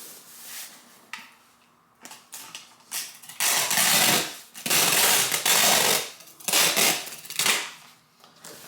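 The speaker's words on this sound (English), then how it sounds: "Tape dispenser." A packing tape dispenser pulls out tape in several loud ripping bursts separated by short pauses, with sharp clicks and snaps as the tape is cut while a luxury tote is packed for shipping.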